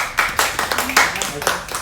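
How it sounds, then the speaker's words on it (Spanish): A short burst of clapping from a small group at a finance workshop class, made of a quick run of close, sharp hand claps with some speech mixed in. "un aplauso para él"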